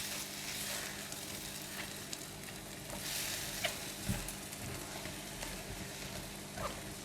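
An egg frying in a non-stick pan gives a steady, close crackling sizzle with a few soft knocks and shifts, and no one speaks over it.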